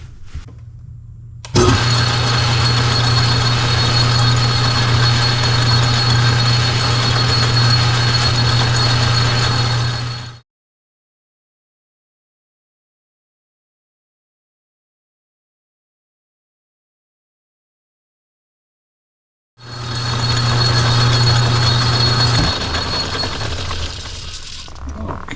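Lathe machining a small bevel on a grade 5 titanium ring, a steady loud motor hum with a bright whine that runs for several seconds, cuts to silence, then resumes.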